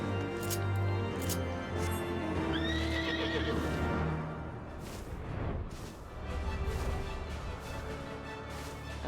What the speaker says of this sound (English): I don't know if I've pointed it out before, but this horse has 6 legs.